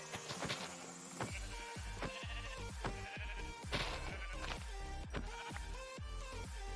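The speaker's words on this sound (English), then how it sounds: "I do see some sheep, which I'm going to punch." Sheep bleating in the Minecraft video game, a string of short game-sound bleats and hits repeating in quick succession over busy background game audio and music.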